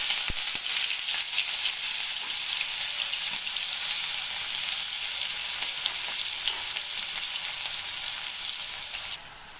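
Steady, continuous sizzling of onions frying in hot oil for tomato thokku, loud and close, with a few faint stirring scrapes.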